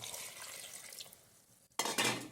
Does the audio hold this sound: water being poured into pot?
yes